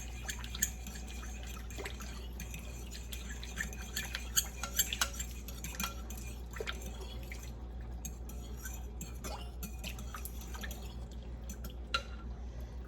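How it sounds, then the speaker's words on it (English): Steady scraping and swishing of a utensil stirring liquid in a dish, with occasional soft clinks against the sides, close and continuous. "about 2 cups of your broth. And stir that up."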